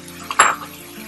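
Chopped tomatoes go into a pot of masala cooked with turmeric, salt, garam masala and a little water, making a short metallic clank followed by a brief hiss and soft sizzle.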